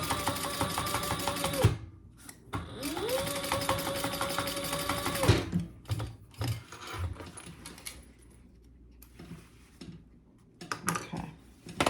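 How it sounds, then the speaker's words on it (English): Sewing machine stitching a zipper into a laptop bag, running in two steady motor bursts with a rising whine, then scattered handling clicks and rustles between stitches. "we're gonna sew that in place"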